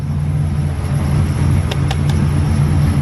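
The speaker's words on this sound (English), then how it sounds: "the only thing is I think it's just a muffler delete, that's why it sounds like that" A car engine with a muffler delete exhaust idles loudly and steadily, a deep, even low rumble throughout with no talk.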